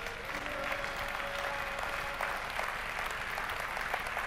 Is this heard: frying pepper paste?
no